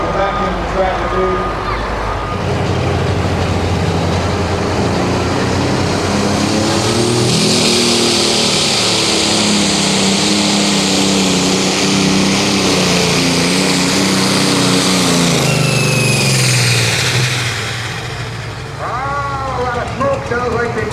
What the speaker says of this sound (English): Sounds like they burned the piston on the Jolly Green Giant